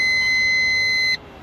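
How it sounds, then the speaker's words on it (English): A Subaru WRX STI's oil pressure warning sounds a single steady, piercing electronic beep held for just over a second inside the car, then cuts off abruptly to quiet cabin hum. "that oil pressure light is annoying, man. The beep"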